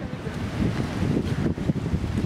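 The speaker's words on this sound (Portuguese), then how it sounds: "O vento passava pelos meus cabelos loiros" Wind gusts buffet the microphone at a beach in Capão da Canoa, a broad rushing noise that swells and dips with the surf beneath, no voices present.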